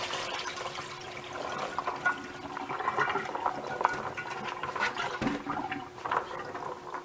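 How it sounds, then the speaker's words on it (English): Water splashes and trickles continuously as carrots are poured into a colander and drain, with a brief thud partway through. "We're going to be pouring them in a colander. Get some of the water out of it."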